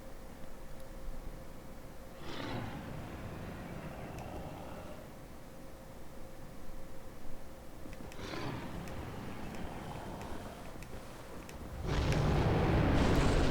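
A dragon in the video game Dark Souls spitting fire, heard as several rushing, roaring bursts around two and eight seconds, with a louder broad blast near the end over a steady game background.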